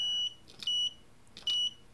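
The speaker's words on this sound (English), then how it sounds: "the alarm goes on" An Arduino vibration sensor alarm gives two sharp, high-pitched beeps about a second apart, loud and close against near silence.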